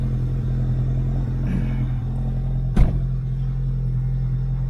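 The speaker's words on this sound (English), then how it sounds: "it's in high idle because it's warming up" A VW MK6 GTI engine sits at high idle while warming up, a steady low rumble with a brief louder thump near the end, no talk.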